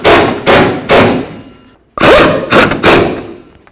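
On a Ford Ranger, a pneumatic impact gun runs the rear shock absorber bolts down in loud, close bursts of rattling hammering, three quick bursts, a short gap, then three more.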